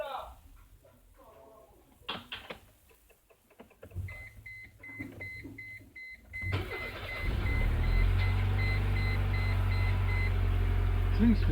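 A 1999 Mercedes A-Class with a hard-start fault cranks and fires up, settling into a steady, fairly loud idle; a chime beeps and someone talks before the engine catches.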